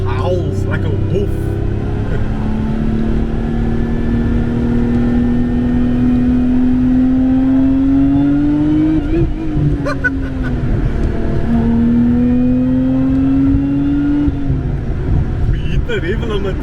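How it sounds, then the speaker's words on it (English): A supercharged Toyota 2GR V6 sings under hard acceleration on a highway, a rising howl that climbs toward the rev limiter, dips briefly on a shift, then climbs again, loud and close from inside the car. "This car howls like a wolf."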